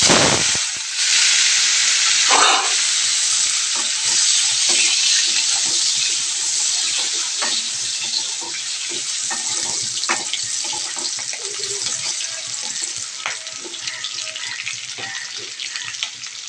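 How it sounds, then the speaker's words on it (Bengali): Potatoes deep-frying in oil in a kadai give a loud, steady, dense sizzle that runs the whole time, with small pops and crackles scattered through it. "কড়াইতে এখন মানে আলুগুলো ফ্রাই হচ্ছে"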